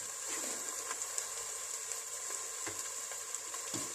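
Onions sautéing in a pan for a home-cooked Tamil dish give a steady, moderately loud sizzle and hiss that runs unbroken throughout, with occasional soft clicks of stirring and no voices.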